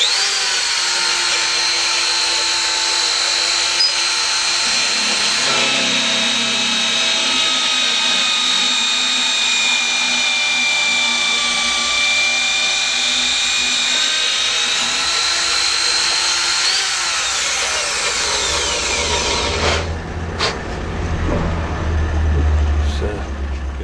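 A power drill bores holes in a knife handle with a loud, steady whine that shifts pitch as it works, then cuts out near the end.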